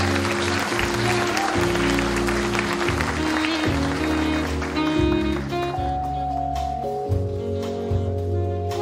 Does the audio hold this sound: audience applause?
yes